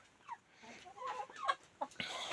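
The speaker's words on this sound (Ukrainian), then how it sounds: "Курочки сидять, яєчко є." Hens cluck softly inside a chicken coop, giving a few short, close, quiet calls and murmurs with small rustles between them.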